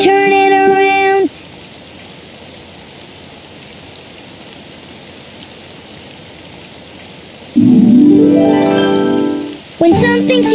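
Steady rain falling outside, a soft even hiss of drops that carries on alone between short bursts of cartoon voices and music at the start and end.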